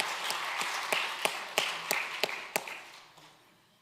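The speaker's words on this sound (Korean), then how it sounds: "자, 우리 박수로 한번." A congregation at a Sunday church service claps together: sharp, evenly spaced hand claps ring out over a wash of crowd applause, then taper off toward the end.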